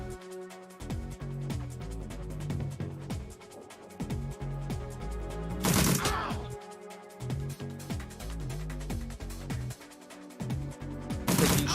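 Shotgun blasts in the Shadowrun video game, two sharp broadband bursts standing out from a busy backdrop of rhythmic game music and effects, moderately loud.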